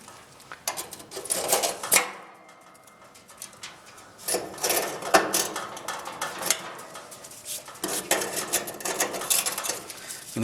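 Metal cotter pin being worked out of a gas grill burner tube, heard as close clinks, scrapes and rattles of metal parts in bursts with quieter pauses between, no talking.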